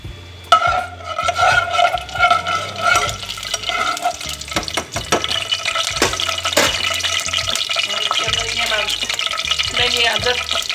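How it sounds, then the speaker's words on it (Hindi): Onions sautéing in oil in a pan while making beef nihari, a close steady sizzle with scraping stirs and clinks from a utensil against the pan. "इसको हम ज़रा से सोते करेंगे"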